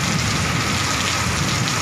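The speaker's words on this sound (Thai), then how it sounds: "ฝนตกใหญ่มากอีกแล้วพี่น้องได้น้ําอีกแล้วเด้อ" Heavy rain pours down steadily outdoors on a farm with a pond, a dense, loud, unbroken hiss of drops hitting the ground and surfaces, with no talking.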